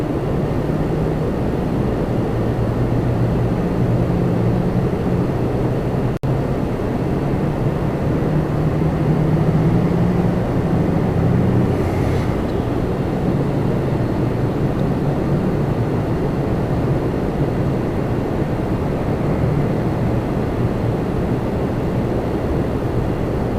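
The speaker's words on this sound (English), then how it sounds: "That is a beautiful plane. And a beautiful departure. Air France." An Air France airliner departing a Toronto Pearson runway, heard through a window as a loud, sustained broadband jet roar that holds steady across the whole stretch with no talk.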